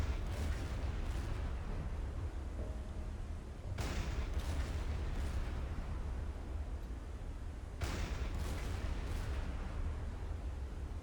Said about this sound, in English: You're firing way too high.